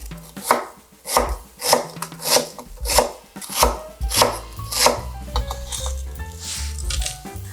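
Brisk knife chopping of a peeled, cored pear on a cutting board, a steady series of sharp, close chops, then softer scraping and light kitchen clatter.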